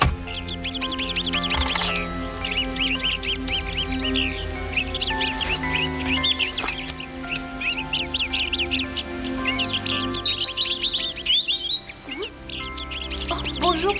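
Small birds chirp in quick bright trills across a busy scene from the Cinderella film, with orchestral music and other sounds layered underneath.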